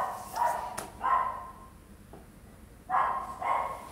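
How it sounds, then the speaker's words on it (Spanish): A neighbour's dog barks repeatedly in bursts, with several sharp barks spaced across a few seconds at moderate distance and no talking. "Llevo 5 minutos a que se calle ese maldito perro y no se calla."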